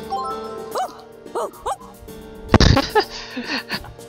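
A cartoonish dog barks in a video game, A Sky Full of Stars: three short, bouncy yelps spaced about half a second apart, then a louder burst of rapid barks with background game music.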